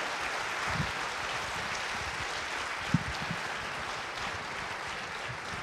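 Audience at a neuroscience conference applauds after a talk, a steady wash of hand claps heard from a distance, fairly faint throughout.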